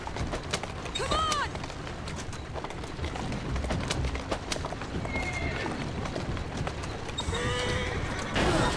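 Horses whinny and hooves clip-clop in the Assassin's Creed Syndicate video game during a carriage race, with neighs rising over galloping and street noise, while a voice talks over parts of it.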